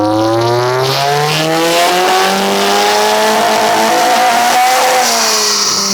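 A Nissan S15 with an SR20 engine revs hard through its exhaust, loud and close, with pitch climbing steadily through a long pull and then dropping back near the end, no voices.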